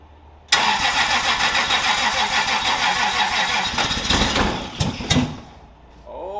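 A Toyota 2JZ engine in a BMW E36 cranking on a weak battery: a starter grinds steadily for several seconds, close and loud, with a few sputtering catches before it cuts off.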